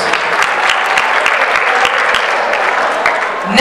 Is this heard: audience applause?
yes